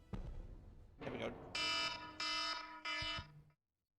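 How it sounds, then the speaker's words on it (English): A game timer alarm goes off in loud, harsh buzzing bursts, three or four blocks in a row with short gaps, after some brief knocking and shuffling. "That's the timer."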